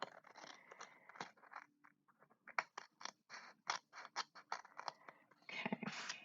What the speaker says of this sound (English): let's trim that bottom bit. If I can find my scissors,